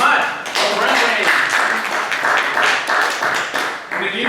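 Audience applause at a social media marketing seminar session, dense steady clapping filling the room throughout as a new speaker is welcomed to the stage, with voices mixed into the crowd noise.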